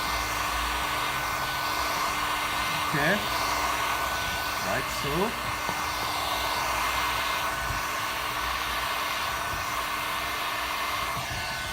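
A heat gun blows steadily while shrinking window tint film on a car side door, a continuous close airy roar held for the whole stretch, with brief talk over it.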